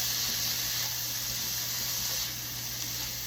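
Home-canned mushrooms sauté in a hot pan, giving a steady, soft sizzle and hiss that runs close and even throughout, with no talking.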